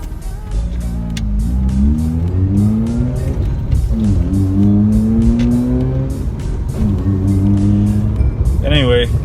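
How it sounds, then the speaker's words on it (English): A Mazda RX-8 R3 with a rotary engine and 131k miles drives along, its engine climbing through repeated rising revs and dropping at gear changes, loud and close, while someone talks over it. "I'm really enjoying driving this RX-8."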